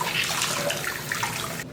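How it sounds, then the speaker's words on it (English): Water pours steadily from a tap as conditioner is rinsed out of a shrunken shirt, a loud, continuous splashing rush close up that stops abruptly at the end. "I'm going to rinse this conditioner out."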